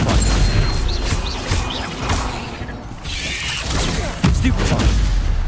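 A Stupefy spell cast in the video game Hogwarts Legacy, with crashing magical impacts and booming combat effects over a busy rumble. A sharp burst near the end stands out, and a voice is heard faintly under the effects.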